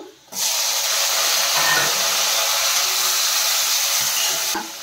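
Chopped tomatoes and turmeric hitting hot onions in a pan, a sudden loud hissing sizzle that holds steady for several seconds and then drops off.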